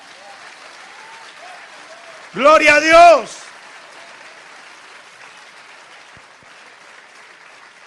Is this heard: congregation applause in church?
yes